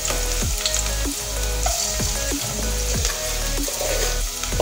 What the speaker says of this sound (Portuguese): Vou colocar um pouquinho aqui de alho triturado.